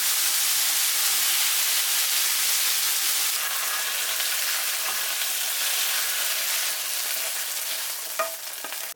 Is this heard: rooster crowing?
no